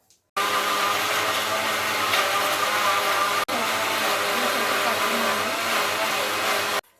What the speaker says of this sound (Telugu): ఇప్పుడైతే మిక్సీ పట్టేసుకుంటా